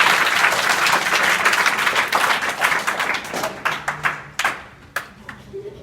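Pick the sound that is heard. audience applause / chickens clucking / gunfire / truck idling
audience applause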